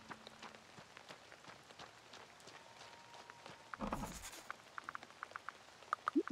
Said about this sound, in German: Regen ist auch sehr gut.